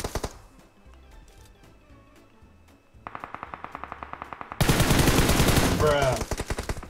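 Gunfire in PUBG Mobile: quiet distant clicks of shots give way to a steady run of rapid rifle fire, then a much louder, close burst of automatic fire erupts and continues to the end.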